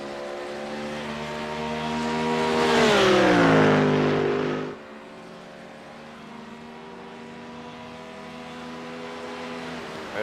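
A Porsche GT3 race car swings through a set of track esses in a GT3 championship race. Its engine note climbs to a loud close pass, then drops away abruptly, leaving a steadier, more distant engine drone.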